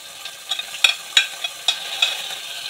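Chopped vegetables, including capsicum, green chilli, tomatoes, spinach and carrot, go into a pot for a one-pot oatmeal meal, giving soft sizzling with a few sharp clinks and scrapes of stirring, close and moderately quiet.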